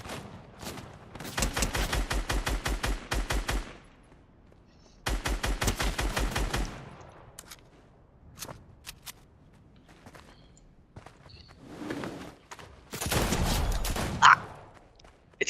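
Rapid bursts of revolver-style gunfire from a cowboy-type weapon in the Fortnite video game, loud volleys of quick shots in three separate runs with a brief sharp crack near the end.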